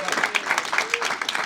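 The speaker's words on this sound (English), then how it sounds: "I want you guys to give yourself a round of applause for finding this room." A small convention panel audience at New York Comic Con claps briefly in a quick burst of close, scattered claps, with voices mixed in.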